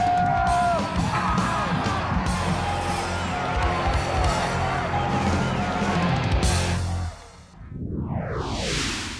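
A big football crowd roars and cheers after an Ohio Bobcats touchdown in the 1996 season, a dense, sustained wall of voices that dips near the end before a swooshing sweep.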